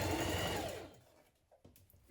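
A sewing machine runs a steady stitching burst on a sweatshirt's pocket facing, loud and close at first, then stops, leaving faint handling clicks and rustles.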